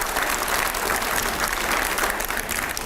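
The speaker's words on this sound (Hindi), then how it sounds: "पहले जोरदार तालियां" A television studio audience at a Hindi news debate gives loud, dense applause that holds steady from start to finish, with no voices over it.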